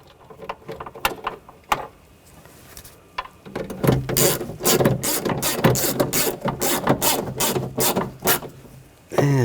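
A ratchet snugs down the mounting nuts on the rear window motor of a 2000-2005 BMW X5, making quick close clicking bursts, sparse at first and then rapid and continuous ratcheting strokes, with no talking.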